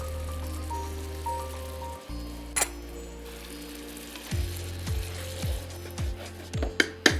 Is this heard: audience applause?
no